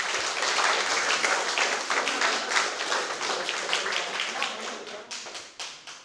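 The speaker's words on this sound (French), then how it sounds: "On peut encore les applaudir si vous le souhaitez." An audience at a student eloquence contest applauds the debaters after their duel, a steady patter of many hands clapping at moderate volume that thins out toward the end.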